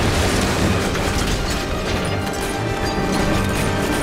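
Rocket blasts and heavy-caliber gunfire in the video game Uncharted 2: Among Thieves, a dense, loud wall of booming and crashing that rolls on continuously for the whole stretch with no one speaking.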